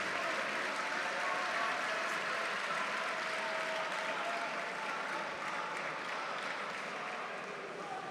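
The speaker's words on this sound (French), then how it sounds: "Et on a le public qui salue Noémie. On peut les applaudir bien fort," Steady, dense applause from a tournament crowd at a jiu-jitsu final, a continuous wash of many hands clapping that holds evenly throughout and fades slightly at the end.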